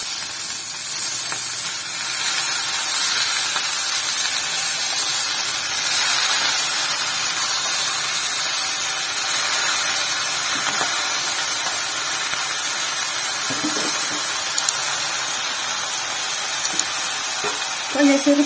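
Spinach (pasalai keerai) sautéing in a pan with onion and green chilli for a Tamil poriyal, a steady hissing sizzle with some steam and occasional stirring clatter, continuing for a long stretch.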